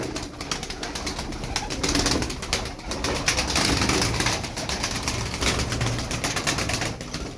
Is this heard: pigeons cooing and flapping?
yes